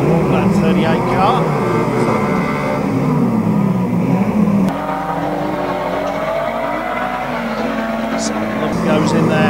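2-litre banger cars rev and grind against each other in a demolition derby at Kings Lynn, a loud continuous engine roar with tire scrubs and crash thuds beneath a commentator's constant talk.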